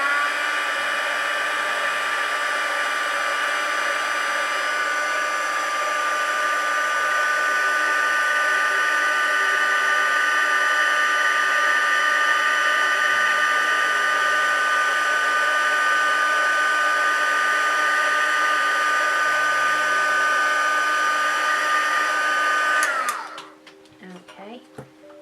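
A heat tool blows hot air steadily to heat set paint on shaded legs, a loud continuous whirring hiss with a high whine that holds for over twenty seconds, then cuts off abruptly near the end.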